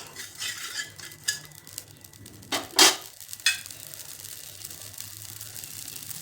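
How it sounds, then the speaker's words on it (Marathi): Amaranth (rajgira) being roasted a little at a time in a kadhai until it puffs, with a light sizzle, scraping stirs and a few sharp clinks of a metal utensil against the pan. "तर आता राजगिरा भाजून घ्यायचं आहे"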